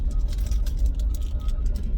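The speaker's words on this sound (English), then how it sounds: "We are in bumper to bumper traffic." Steady low rumble of car engines and road noise heard from inside a car crawling in bumper-to-bumper traffic, continuous and close with no distinct events.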